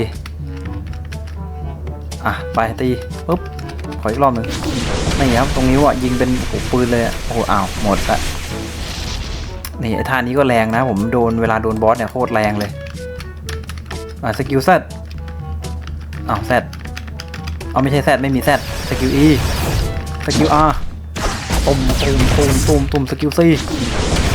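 Rapid-fire shots from a kaiju's skill C in Roblox Beast Force, a fast clattering patter of small hits running in bursts under near-constant excited talk.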